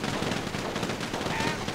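Rapid automatic gunfire in Grand Theft Auto 5 crackles as a dense, continuous burst of shots, fairly loud and steady across the brief moment, with some voice mixed underneath.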